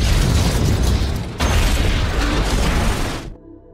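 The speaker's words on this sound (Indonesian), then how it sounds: "tak lama terjadilah sebuah ledakan" A loud, sustained roaring blast fills an action-film scene of a submarine explosion, swelling again partway through before cutting off abruptly into near silence.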